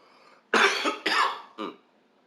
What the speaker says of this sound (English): Excuse me for the cough, fam.